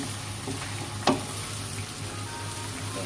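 Garlic browning in a pan gives off a steady, close sizzle that runs throughout, broken once by a brief sharp clink of a utensil.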